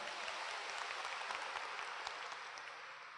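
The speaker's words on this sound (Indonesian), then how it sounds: "aplaus buat Anda semuanya" A Bandung audience applauds at a live event with dense, steady clapping from many hands. The sound is fairly distant and even, thinning slightly toward the end.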